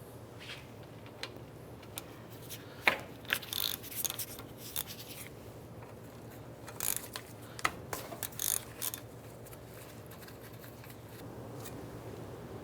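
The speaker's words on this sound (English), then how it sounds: "We're going to use our 13mm socket, and we're going to loosen and remove this slider pin bolt right here and this one up top." A 13mm socket ratchet loosens the brake caliper slider pin bolts on a 2003-2012 Chevrolet Colorado, with bursts of close, clicking ratchet turns and metallic knocks separated by quieter gaps over a low background hum.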